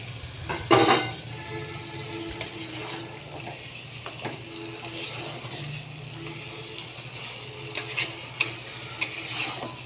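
Pointed gourds frying in spiced oil give off a continuous sizzle with scraping stirs and occasional clatters, a sharp clang near the start, heard close up.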